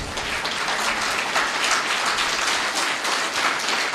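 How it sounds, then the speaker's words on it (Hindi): An audience at a spiritual yoga class claps loudly and continuously, a dense crackling applause filling the whole clip with no talking. "बजा दो ताली।"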